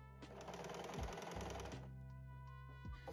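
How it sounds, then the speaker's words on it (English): Sewing machine running a zigzag stitch on fabric close to the edge, a steady whirring, rapid mechanical clatter that slows and stops briefly, then resumes, heard alone and close. "So I'm sewing my zigzag stitch really close to the edge"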